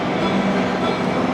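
A Trackmobile remote control locomotive moving rail cars gives a loud, steady, continuous rumble of rolling rail equipment with no pauses and no voices.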